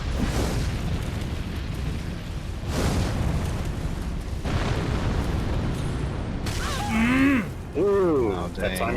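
A boss in Elden Ring sets off explosion attacks: several deep, rumbling booms in sequence, followed near the end by a vocal cry.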